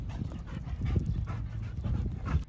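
Trained dogs pant close by in rapid, steady rhythm, a breathy rasp repeating without pause and with no voices over it.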